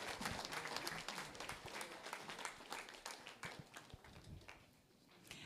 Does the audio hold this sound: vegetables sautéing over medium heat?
no